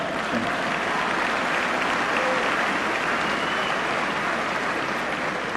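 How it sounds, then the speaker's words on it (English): A graduation audience at Hillcrest High School in Dallas breaks into steady, dense clapping that fills the hall at an even level throughout, with no voices rising above it. "You can clap for that, Sean."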